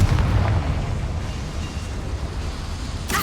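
A Confringo blasting spell bursts in Hogwarts Legacy, a loud booming explosion at the start that decays into a rumbling tail, with a sharp crackle near the end.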